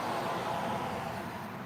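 Cars passing on a road about fifty metres from a workshop, heard as a faint, steady traffic wash with no distinct vehicle standing out.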